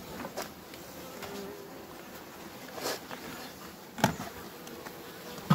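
Winter honeybees hum softly among beehive frames during an autumn inspection, a low steady buzz under faint handling knocks and a few sharp clicks.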